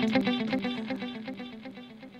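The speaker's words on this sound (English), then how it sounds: "You're only hearing the delay there." Guitar run through a dotted-eighth delay synced to 120 BPM with only the wet signal heard, repeating echoed notes cascading in a steady rhythmic pattern at moderate loudness, with no voices.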